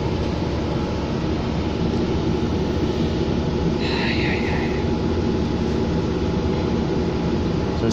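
A continuous rumbling roar of light rail trains passing close by, steady and loud throughout with no voices.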